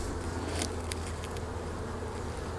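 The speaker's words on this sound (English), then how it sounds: "All right, so the bees are starting to get a little bit agitated." Agitated honey bees hum and buzz densely around an opened hive during a honey harvest, a steady close swarm sound with brief louder passes near the listener.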